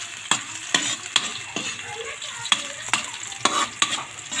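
Pork adobo with green chili frying in a pan, a constant sizzle broken by regular sharp scrapes and clacks of a spatula stirring, close and fairly loud.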